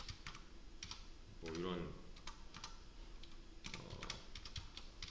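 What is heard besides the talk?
typing code on a computer keyboard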